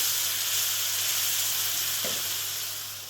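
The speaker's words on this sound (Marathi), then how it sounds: "मसाले आपल्याला मस्त असं तेल सुटेपर्यंत परतून घ्यायचे आहेत" Spices sautéed in oil with a little water for a Maharashtrian potato rassa curry, giving a steady, close, even sizzle with soft hissing throughout and a brief stir scrape partway through.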